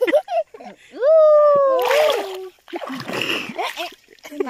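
Children splash water in a river while hunting for shells. Loud splashes come in bursts between children's shouts and talk.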